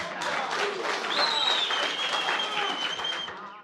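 Delegates at a Limpopo elective congress applaud after a nomination is accepted, a brief burst of clapping with a faint whistle-like tone running through it.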